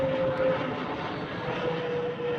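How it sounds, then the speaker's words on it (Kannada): An airplane passes close by near a quarry temple outside Bengaluru, giving a steady, moderately loud engine drone with a sustained tonal hum that swells slightly and holds throughout. "ತುಂಬ ಹತ್ತಿರದಿಂದ ಪ್ಲೇನ್ ತೋರಿಸ್ತಾ ಇದ್ದೀನಿ ನೋಡಿ."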